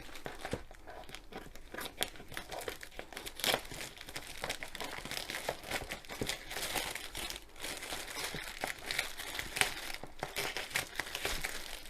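Plastic wrapping being peeled off a Home Craftology Pink Daisy diamond painting kit package, a steady close crinkling and tearing with sharper crackles scattered throughout and no talking.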